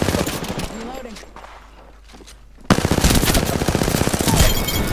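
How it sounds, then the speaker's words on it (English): Rifle shots from a 30-30 Repeater in Apex Legends: a sharp, loud onset midway, followed by sustained gunfire and game noise, with talk over parts of it. "There's no greater satisfaction than hitting those 30-30 shots."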